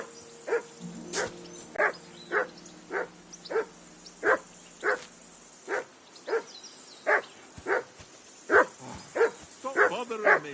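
A dog in Kingdom Come: Deliverance II barks steadily at a near distance, about a dozen evenly spaced woofs with a quick flurry at the end, with game dialogue and ambience underneath.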